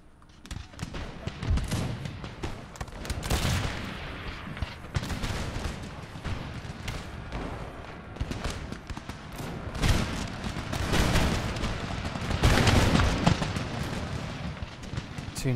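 Rank volley musket fire in Empire Total War (Darthmod, Ottoman campaign), with dense crackling volleys, heavy booming blasts and continuous battle roar filling the whole stretch at a loud, steady level.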